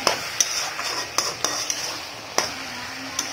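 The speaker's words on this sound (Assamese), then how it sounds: "মাংসখিনি মই লৰাই দিছোঁ।" A utensil stirs chicken in a pan over a soft sizzle, with sharp scraping knocks arriving every half second or so, close and distinct.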